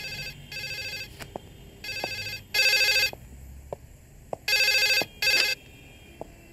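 A telephone rings in repeated electronic bursts, some paired, at a steady cadence. Faint clicks fall in the gaps between rings.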